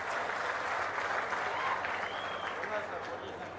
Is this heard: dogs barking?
no